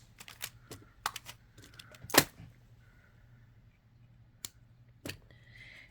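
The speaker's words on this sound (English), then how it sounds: "So we're going to cut it right here." Beading wire for hair sticks is cut: a few sharp, close snips and clicks of a cutting tool, with one louder crisp cut near the middle and light handling noises in between, no talk.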